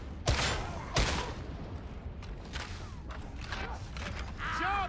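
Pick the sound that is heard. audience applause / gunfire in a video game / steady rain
gunfire in a video game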